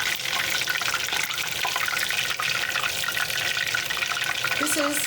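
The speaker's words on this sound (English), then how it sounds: "This is first frying." Steady, loud sizzling and crackling of chicken pieces in their first deep fry in hot oil, a continuous hiss throughout.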